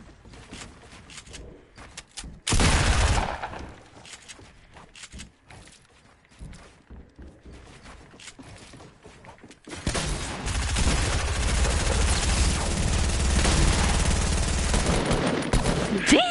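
Fortnite gunfire arrives as a burst of loud shots near the start, then scattered clicks and faint shots, before a dense, sustained barrage of rapid fire takes over for the second half.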